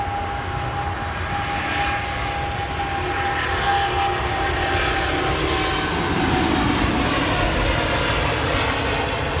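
A jet airliner taking off at London Heathrow Airport gives a steady, loud engine roar with a faint whining tone. It holds at an even level for nearly ten seconds and swells slightly toward the end.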